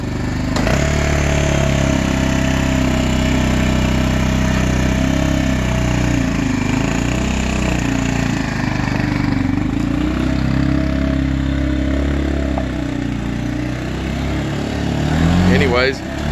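A Suzuki four-wheeler ATV engine runs steadily while ridden in a circle, a loud, near, sustained buzzing drone that rises briefly near the end, with someone talking over it.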